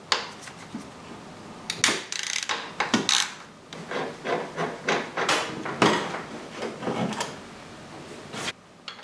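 A spanner turning and working free the clutch bleed valve on a Honda Goldwing motorcycle: a series of close, sharp metallic clicks, taps and scrapes in irregular bursts.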